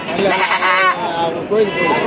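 Goats bleat in loud, wavering calls at a busy Saturday livestock market, two strong cries close by with crowd chatter and talk around them.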